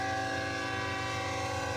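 A BNSF freight train passes with a steady, loud rumble, and a sustained horn tone holds throughout the short stretch.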